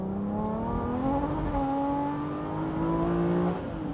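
An Aston Martin V12 Vantage with a manual gearbox revs up through the gears from inside the cabin, the engine note climbing steadily, dropping at a shift, then rising again.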